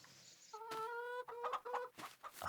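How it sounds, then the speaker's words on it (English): Chickens in the Farming Simulator 22 farm game cluck nearby, one drawn-out squawking call followed by several quick, choppy clucks over a faint background hiss. "Chickens are over here. So you've got chickens right there."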